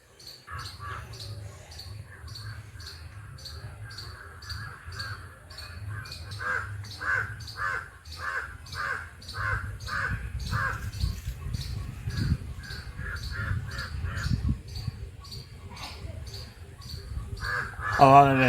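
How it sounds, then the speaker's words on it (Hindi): Crows caw repeatedly in quick rhythmic bursts over a steady chirring of crickets outdoors, with a person talking intermittently underneath. "पीछा कर रहा है कौवा।"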